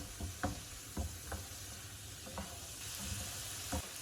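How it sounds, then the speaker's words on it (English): Onions cook down in a pan with a quiet continuous sizzle, punctuated by regular low knocks of stirring against the pan. "We've got our onions cooking down."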